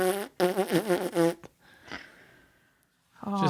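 A voice imitating a dog farting while it poops, a sputtering run of loud buzzy bursts followed by quiet and a short return of the blubbering noise.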